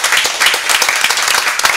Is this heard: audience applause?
yes